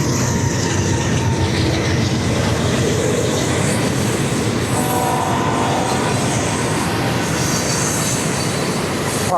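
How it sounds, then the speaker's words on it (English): A train rumbles past close by, loud and continuous, with metallic wheel squeal and screech rising partway through; no voices. "Pardon the train."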